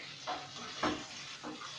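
Sliced pepper rounds are stirred in a sizzling frying pan for a kokorech snack, three short scraping strokes over a steady close frying hiss.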